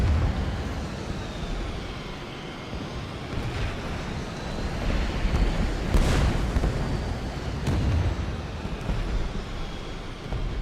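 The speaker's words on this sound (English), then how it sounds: "Some vehicles have been destroyed." Vehicles blowing up in War Thunder, distant muffled explosions and rumbling bursts over a continuous low roar, with a sharper blast near the middle.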